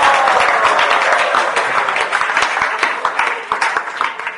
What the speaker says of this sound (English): So now you're cheering me, I should be happy.